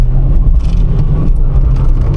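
A cheap £500 car thrashed hard, its engine a loud, steady low drone with road rumble filling the cabin, close and constant throughout.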